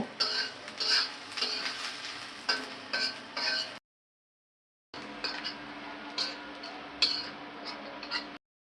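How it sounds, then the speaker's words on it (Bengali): Green chillies being stirred in a frying pan with chopped onion, giving close, irregular clinks and scrapes of a utensil against the pan over a steady sizzle, with one short gap of silence partway through. "এবার দিব কাঁচামরিচ। এবার একটু নাড়াচাড়া করে নেব।"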